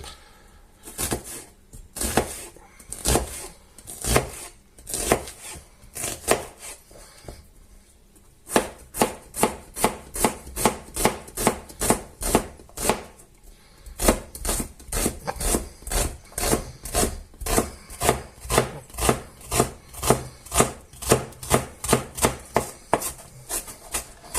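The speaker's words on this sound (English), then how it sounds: "I'm going to chop a little bit of this onion, just under a half" A knife chops an onion on a board, with a long run of steady, evenly spaced chops close by and a short pause partway through before the rhythm picks up again.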